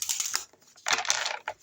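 Tarot cards shuffled by hand, two short bursts of crisp papery riffling close to the microphone, with no talking.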